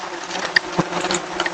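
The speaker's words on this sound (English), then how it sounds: "we noticed a big wasp nest under the roof where we're supposed to sleep" A swarm of angry wasps buzzing after their nest under a cabin roof was sprayed with wasp poison; a steady close insect drone with a couple of brief sharper flares, no talking.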